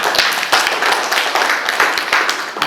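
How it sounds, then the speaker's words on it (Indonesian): Applause at an Indonesian socialization session on positive culture, with steady dense clapping from a room of people that runs the whole time at close range, with a few sharper individual claps standing out. "Tepuk tangan untuk Pak D."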